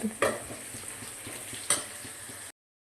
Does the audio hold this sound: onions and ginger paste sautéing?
yes